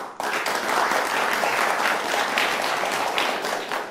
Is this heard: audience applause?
yes